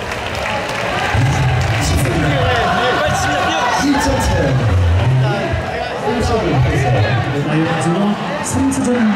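Baseball stadium fans at a Hanwha Eagles versus Samsung Lions game, a loud sustained swell of crowd noise with applause, cheering and babbling voices all around, a nearby person talking over it.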